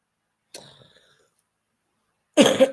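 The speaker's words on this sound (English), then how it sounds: "I'm going to keep on coughing" Two short coughs in a quiet room: a light one, a pause of nearly two seconds, then a louder, harsher cough close by.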